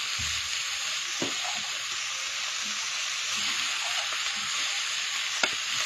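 Mushrooms cook in a hot pan with a steady, bright sizzle, broken by occasional scrapes and taps of a utensil, close and free of talk.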